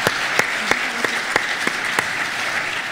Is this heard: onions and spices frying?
no